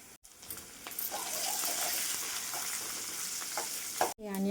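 Mustard seeds, chana dal, onion and curry leaves fry in hot oil in a steady, close sizzle that runs on alone, with a brief clatter near the end.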